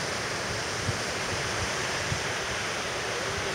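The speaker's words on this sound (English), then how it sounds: "Imagine there's huge waves breaking along here." Ocean waves breaking below a cliff at Uluwatu, Bali, make a steady, dense roar of surf with faint low thumps, heard alone without talk.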